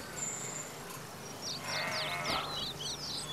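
Sheep bleat several times in a quick cluster, fairly close, over a soft outdoor background hiss, with a faint earlier cry at the start.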